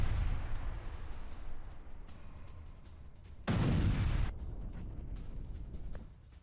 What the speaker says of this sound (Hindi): हॉवित्जर से यूक्रेनी सैनिकों पर हमला किया है रूस ने।